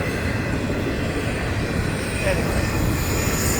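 A train rumbles past on the Florida East Coast Railway line, a steady loud wash of wheels and rail noise filling the whole clip, with a person speaking briefly over it.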